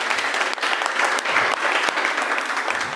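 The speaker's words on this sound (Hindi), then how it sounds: "तो इनके लिए भी एक और जोरदार ताली चाहिए।" An audience at a gathering in Bihar gives loud, sustained applause, dense and even from start to finish with no pause.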